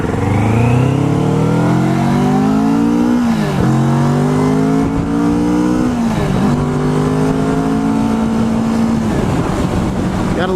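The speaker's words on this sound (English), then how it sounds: "Gotta love that 650 parallel twin." A loud 2015 Kawasaki Vulcan S 650 parallel-twin motorcycle engine drones steadily, its pitch rising through repeated revs with brief dips between gear changes, with wind rushing over the microphone throughout.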